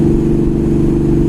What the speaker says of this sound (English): the exhaust is a little bit too loud. This is known for being a loud exhaust